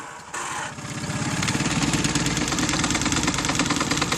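A tiller-handle outboard boat engine with electric start fires up and settles into a steady, buzzing idle with a fast regular pulse, loud and close throughout.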